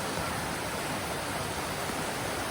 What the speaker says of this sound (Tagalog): Ilog pala ito guys. Ang gandahan dito, running water.